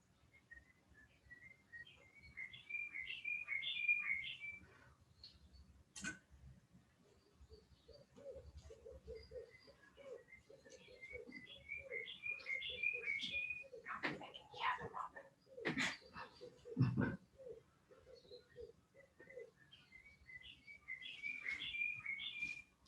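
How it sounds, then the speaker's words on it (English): Birds sing in a garden during an indoor ikebana flower-arranging demonstration, with repeated bright chirping phrases and whistles throughout, some cooing, and a couple of sharp knocks and handling sounds nearby. "I can't stop the birds singing in the garden, so you can enjoy the beautiful bird song as well"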